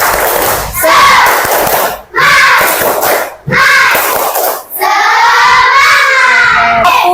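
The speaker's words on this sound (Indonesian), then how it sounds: "Tepuk semangat" Primary school children in an Indonesian fourth-grade classroom chanting loudly in unison through a spirited clapping routine, with rhythmic bursts of voices and claps separated by brief pauses, ending in a sustained shouted cheer.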